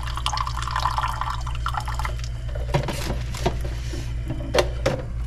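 Coffee dripping from a camp-style maker onto a surface on the road to Cancun, Mexico: irregular close drips and small splashes over a steady low engine-like hum.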